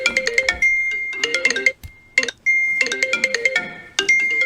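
A phone ringtone plays loud and close in repeated bursts of bright, bell-like electronic tones, with brief pauses between phrases.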